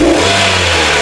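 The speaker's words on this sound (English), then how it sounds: "I'm gonna go and rev the car." A car engine revs hard with its mass airflow sensor unplugged, giving a loud, close, continuous roar that holds for about a second.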